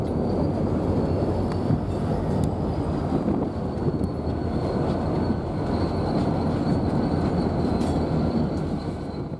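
A pair of old Burlington Northern locomotives hauling a train past on a BNSF line at Irondale, Colorado on a windy day, a loud continuous rumble of wagons with steady rail noise and faint wheel squeal.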